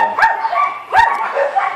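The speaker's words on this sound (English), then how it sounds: "Sorry about the dog barking." A dog barks twice in a backyard, loud and close, with the two yelping barks about a second apart and short whining tones between them.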